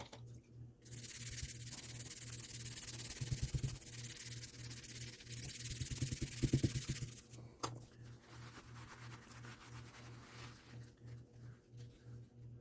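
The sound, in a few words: polishing knife metal with toothpaste on a pad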